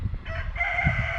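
A farmyard rooster crows once in a clear, drawn-out call, moderately close, with a low rumble of background noise underneath and no talking.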